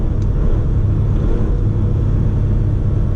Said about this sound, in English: Man, this motor absolutely sings.